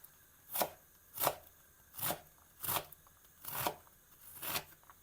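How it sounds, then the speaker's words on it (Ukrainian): A knife chops an onion into small cubes on a board, six crisp, evenly spaced strokes with short pauses between, close and clear with no talking. "цибульку нарізаю такими кубиками невеличкими"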